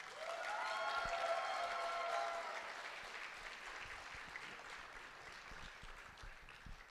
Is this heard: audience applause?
yes